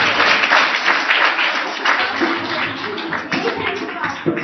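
A church congregation claps together, a dense burst of applause that holds for several seconds, with voices mixed in.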